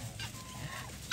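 Ducks call in a brief burst of nasal quacking, moderately near, with faint background noise and no talking.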